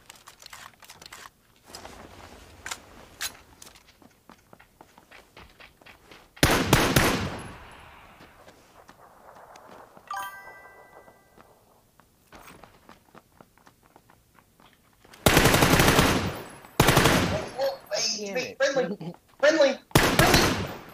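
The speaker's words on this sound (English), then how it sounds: "I'm shooting you, dude." Video game gunfire bursts in loud clusters, with sharp repeated shots dominating the middle and end, spaced between quieter clicks and a voice talking in between.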